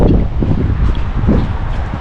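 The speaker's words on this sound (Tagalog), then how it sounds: "Ang lakas ng hangin" Strong wind in Spain roars and buffets steadily against the microphone, a low rumbling gust that fills the whole short stretch.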